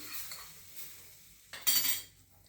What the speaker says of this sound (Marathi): आता ही गरम असतानाच त्याच्यात ओतायची आहे असं चांगली चरचरली पाहिजे ती